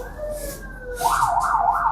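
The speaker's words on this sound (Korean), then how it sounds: "저거 사이렌 소리가 되게 우리 경찰차랑 구급차랑 소방차 다 다르잖아요" An emergency vehicle siren in congested traffic wails with a steady rising tone, then breaks into a louder, rapidly warbling cycle from about halfway through. It sounds fairly close, and no one talks over it.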